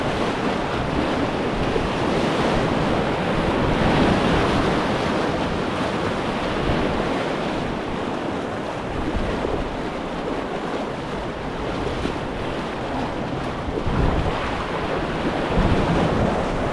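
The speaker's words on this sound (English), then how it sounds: "You see where all that white water is? We're gonna try to go right through the middle of it all." Boat running through white water rapids on a river, a loud continuous roar of rushing water and wind buffeting the microphone, with no talking.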